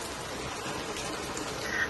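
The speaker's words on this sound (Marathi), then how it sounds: "इथं पाऊस पडते" Even, continuous hiss of falling rain at a hill station in Maharashtra, steady and fairly close, with no voices.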